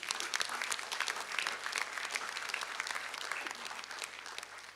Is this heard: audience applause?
yes